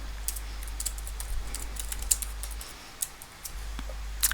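Fingers type on a computer keyboard in a quiet office, producing scattered light clicks and taps at an uneven pace over a low steady hum, fairly faint and without speech.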